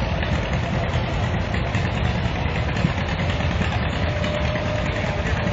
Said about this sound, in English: Here's a 1941 John Deere Model A